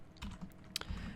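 Quick, light typing on a computer keyboard, a few close clicks and taps in about a second, quiet and alone.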